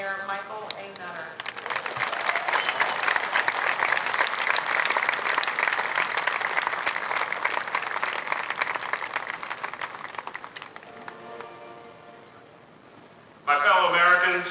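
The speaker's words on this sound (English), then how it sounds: "Please let me hear a round of applause for Mayor Michael A. Nutter." A large crowd applauds Mayor Michael Nutter at a 2011 Independence Day address in Philadelphia. The clapping is loud and sustained for about nine seconds, fades, and a speaker's voice is heard before and after it.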